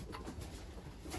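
Pigeons coo in a breeding loft, a brief faint stretch of low burbling calls close by with soft rustling.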